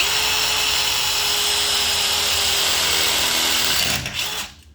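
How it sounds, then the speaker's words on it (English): A power drill whines loudly and steadily, boring a hole for hanging suspended ceiling grid, then winds down and stops near the end. "Make sure my hand's not behind the drill bit there."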